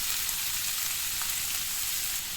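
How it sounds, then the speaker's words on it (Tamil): Steady, crackling sizzle of onions frying in hot oil, a dense hiss that runs continuously without pause or voices. "இந்த வெங்காயத்தை நல்லா பொன்னிறமாக வர வரைக்கும் நம்ம இதை வதக்கிக்கலாம்"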